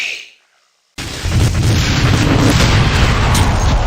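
A self-destructing Klingon in a Star Trek: Starfleet Academy space battle erupts in a sudden loud explosion after a moment of near silence, then a sustained roaring rumble that holds steady to the end.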